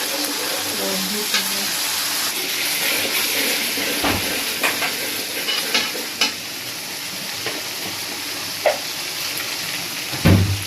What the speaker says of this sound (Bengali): একটু ঘিও দিয়ে দিই চলো